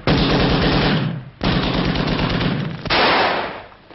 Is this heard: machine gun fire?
yes